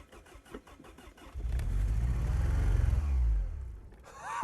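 A buried barn-find convertible's engine cranks with quick rhythmic starter beats, then catches and roars into a loud, rough running rumble that rises and settles before a sharp noise at the end.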